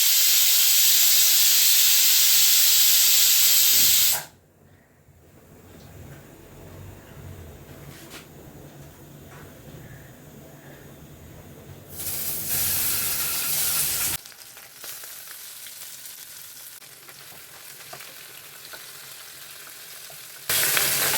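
Tangra fish frying in mustard oil, a loud close sizzle and hiss that cuts off abruptly, leaving quieter crackling before bursts of strong frying return; no talking.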